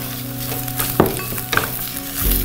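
Grated coconut sautéing in oil in a pan after raw peanuts, a loud continuous close sizzle with scraping stirring strokes and a few spitting pops.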